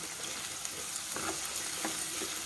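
Ginger garlic paste fries in hot oil for mutton curry, a close, steady sizzle with faint stirring scrapes throughout.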